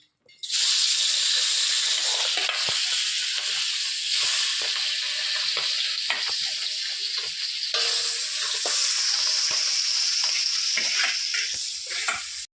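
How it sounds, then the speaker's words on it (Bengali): Pabda fish frying in hot oil in a pan, a loud continuous sizzle and hiss lasting the whole stretch, broken by occasional soft stirring taps, with no speech. "মাছটা সুন্দর করে ভেজে নিই।"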